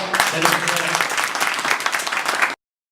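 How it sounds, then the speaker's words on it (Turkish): Steady applause from a crowd at a political party visit, dense and continuous clapping for a couple of seconds before cutting off abruptly. "güçlü bir alkışla"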